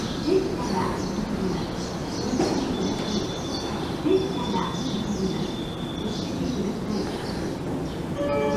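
A JR Gakkentoshi Line 207 series seven-car local train pulls into platform 2 at Kyobashi station, a continuous rumble and rolling hum with a faint high whine and some distant station sounds.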